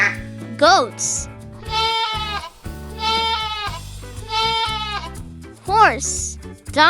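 Goats bleating in three long, quavering calls, loud and near, with gentle children's music playing underneath.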